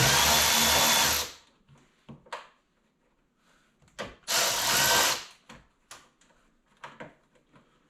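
A power drill backs out 7mm screws from a door panel on a Chevy/GMC pickup: two loud bursts of whirring, each about a second long, separated by clicks, taps and handling noises of loose screws and tools.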